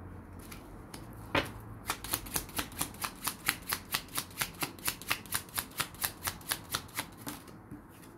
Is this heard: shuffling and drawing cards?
yes